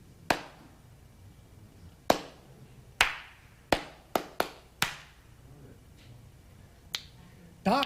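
Sharp hand claps struck close in an irregular rhythmic pattern for a clapping game, about ten crisp hits with short gaps and quiet between them, no voices.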